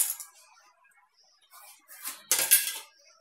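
Metal spoon scraping and clinking in a pan while mawa ladoo mixture with pistachio powder, cardamom, cashews and dry fruits is stirred; a few soft scrapes, then louder clattering strokes near the end, close up with no talk.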